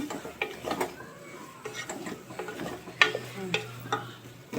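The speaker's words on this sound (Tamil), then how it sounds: "அடுத்து கொஞ்சம் வதக்கிடுவோம்." Vegetables for a veg biryani are stirred and sautéed in a pan, with soft sizzling under irregular scraping and clinking strokes of a spatula, close and moderately quiet.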